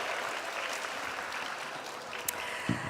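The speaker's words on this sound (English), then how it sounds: "Let's give Lisa a warm applause." Audience applause at a youth indaba event, a steady broadband wash of many hands clapping that fills the whole stretch, with a brief low thump and a voice near the end.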